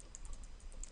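Rapid clicking of a computer keyboard as text is typed into Photoshop, a steady patter of close, crisp keystrokes with no voices.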